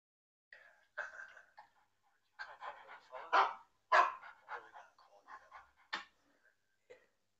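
A dog in the Into The Dead 2 video game barks and yelps in short irregular bursts, fairly close and alone against near silence.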